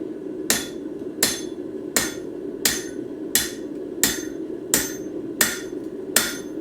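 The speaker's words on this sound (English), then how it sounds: "So I am going to try to repair that a bit by going like this. Where's my forging hammer?" A forging hammer strikes metal tongs in a steady series of eight sharp, ringing metallic blows about three-quarters of a second apart, close and loud over a low background hum, while scrolling tongs are straightened by hand.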